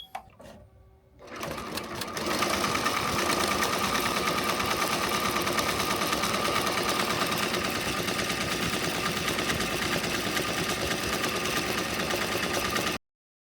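A Tajima TMBP 2 embroidery machine stitches a design onto a snapback cap, a loud, fast, steady mechanical clatter with an even rhythm that runs unbroken for over ten seconds before stopping abruptly.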